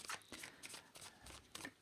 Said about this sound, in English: I'm going to shuffle that again because I had the whole deck upside down.